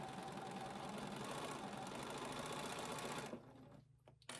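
Sewing machine back stitching an embroidered in-the-hoop bowl cozy, a steady close mechanical whir and rapid needle hum running continuously before stopping abruptly, followed by a couple of brief clicks.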